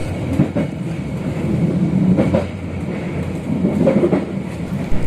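Passenger train travelling from Yogya to Garut, a steady rumbling ride with faint rhythmic clickety-clack of wheels over rail joints, heard from inside the carriage, continuous and moderately loud with no talking.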